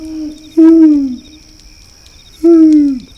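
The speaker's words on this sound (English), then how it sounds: "this owl came out and started, making the sounds that owls make" An owl hoots twice in a wooded spot on a farm after dark, each call a loud, close, drawn-out falling hoot about two seconds apart, with quiet background between.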